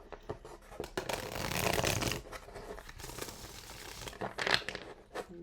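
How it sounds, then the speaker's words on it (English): A tarot deck is shuffled by hand during a reading, a run of papery riffling and sliding card sounds, close and fairly soft, in uneven bursts over several seconds. "I'm gonna shuffle one more time."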